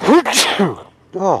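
A single sharp sneeze bursts out nearby, loud and abrupt, with a voice speaking just before and after it in a pub setting.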